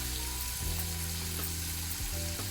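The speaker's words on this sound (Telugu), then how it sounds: "నూనె బాగా కొంచెం ఎక్కువగా వేసుకున్నామంటే అండి బాగా ఉడికిపోతుంది మనకి" Chicken pakora frying in plenty of oil, a steady, dense bubbling sizzle with occasional soft clinks, close and continuous, no voice.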